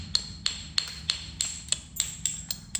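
Flint knapping on a Clovis point of Flint Ridge flint, with about nine light, evenly spaced ringing taps struck close by at a steady rhythm.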